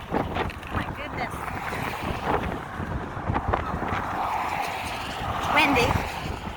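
Strong wind gusts roar across an open bridge high above a river, a steady broadband rush buffeting the microphone, with a louder gust near the end and a voice speaking briefly over it.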